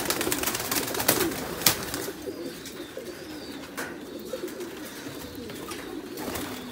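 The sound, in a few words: Thai Titan meat pigeons cooing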